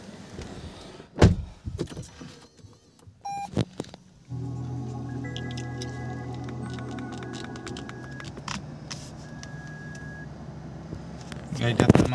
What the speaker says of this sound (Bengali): চলুন গাড়ি স্টার্ট দিয়ে দেখি।